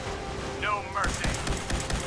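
Gunfire in the video game Fallout 4 comes as a short burst of sharp shots over a low game background, with a voice speaking briefly.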